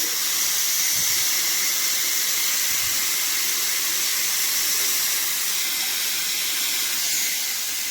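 A pressure cooker of black chickpea curry vents its steam in a loud, steady hiss that runs unbroken and close, with a couple of faint low knocks near the start and no speech.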